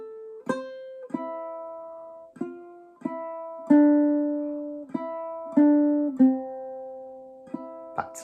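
Clawhammer ukulele picking the Wildwood Flower melody alone, clear plucked single notes and brushed strums ringing out one after another at a moderate, steady pace.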